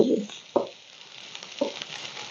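Fried rice made with Ranjit rice being stirred in a pan, with a few distinct scraping strokes over a faint sizzle, close up and with no talking.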